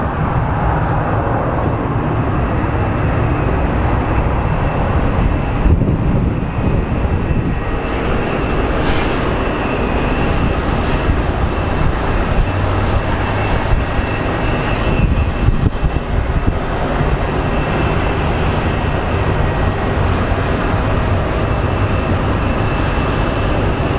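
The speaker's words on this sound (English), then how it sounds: "I think this American Airlines 777 will eventually take off." An American Airlines Boeing 777 at Phoenix Sky Harbor produces a loud, continuous jet engine roar that holds steady with broad rumble and hiss throughout.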